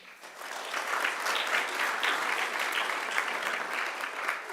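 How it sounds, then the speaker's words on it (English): A graduation ceremony audience applauds the graduates, a dense, steady clapping that swells quickly and holds at an even level in a large hall. "So please give yourself a round of applause."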